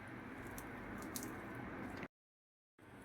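Fenugreek thepla dough is stirred together with yogurt and spices in a bowl, making soft, close, wet squishing sounds that break off briefly near the end.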